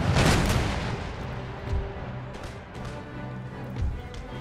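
A naval cannon broadside in Empire Total War: a heavy opening boom, then a string of deep, rumbling shots that grow fainter and farther off.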